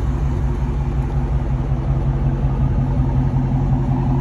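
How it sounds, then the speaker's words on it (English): A 2021 Dodge Charger Scat Pack 392 engine with a resonator idles steadily up close, a deep even rumble with a smooth low throb and no change in revs. "You guys can hear it on idle, it sounds good."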